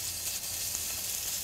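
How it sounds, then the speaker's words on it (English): Chicken patty frying in hot sesame oil, a steady bright sizzle that holds level throughout, close and continuous with no talking. "you'll hear the sizzle."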